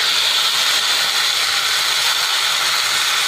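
Marinated mutton hitting a hot pan with browned onions and garlic, a loud, steady, close sizzle that holds without a break.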